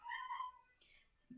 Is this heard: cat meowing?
yes